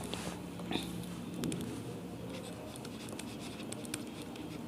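Pen scratching steadily across paper during a handwritten accounts lesson on calculating new and gaining ratios, a soft continuous scribble with faint taps, fairly close and with no talking.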